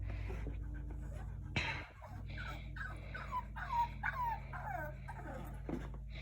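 A puppy whimpers and yips in a run of short, rising-and-falling whines, with soft panting between them, close by over a low steady background hum.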